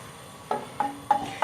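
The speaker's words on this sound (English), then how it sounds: "Stir, stir, stir, until they start making sound like sizzles." Ginger and garlic sizzling in a pan, with four quick stirring scrapes at an even rhythm over a soft, steady frying hiss.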